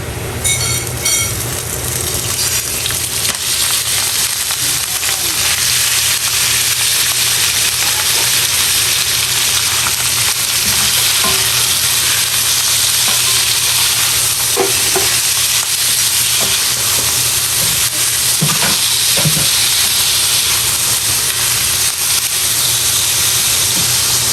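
Ground pork fries in a pan for mapo tofu, a loud steady sizzle with scraping stirs now and then, close and continuous.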